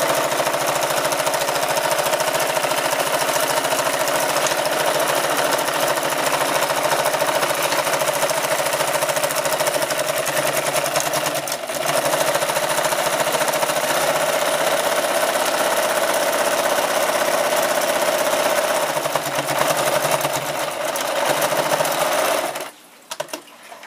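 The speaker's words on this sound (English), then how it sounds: "now what I'm going to do is run a second row of stitching, just a zigzag stitch to ensure that my stitches don't come out" A sewing machine runs a continuous zigzag stitch through a buckskin leather pouch, a loud, steady whirring hum lasting over twenty seconds before cutting off abruptly.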